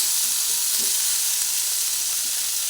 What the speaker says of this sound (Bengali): অল্প পরিমাণে হলুদ গুঁড়ো দিয়ে দিলাম ভালোভাবে এধার ওধার করে ভেজে নিচ্ছি